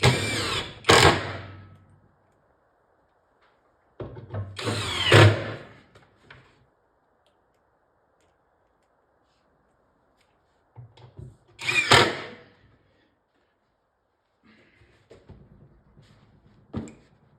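Several separate bursts of a 10-inch drill press whirring into material, each lasting about a second, with quiet pauses in between.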